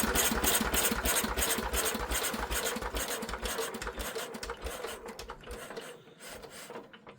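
Old Lister engine running for the first time in many years, a steady rhythmic chugging and knocking close by that fades slightly toward the end.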